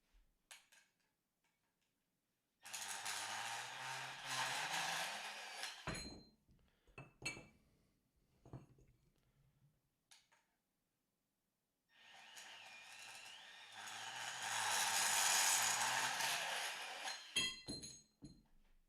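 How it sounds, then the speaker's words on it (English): A Milwaukee saw cuts through metal conduit for a laptop stand in two loud, sustained bursts of several seconds each, separated by a gap of scattered clinks and taps. "cutting with the Milwaukee as I spray shavings all over"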